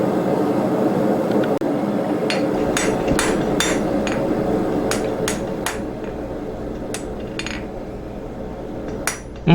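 Hammer blows on hot steel over an anvil while squaring the back half of a round punch at a blacksmith's forge, a series of sharp ringing strikes at an uneven, steady pace over a constant roar of background noise.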